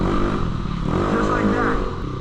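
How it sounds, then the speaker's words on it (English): A motorcycle engine revs up briefly while the rear brake is held, a rising, strained mechanical roar mixed with a person talking over it. "You can hold in the back brake to rev it up to get to that point where you want to hit it."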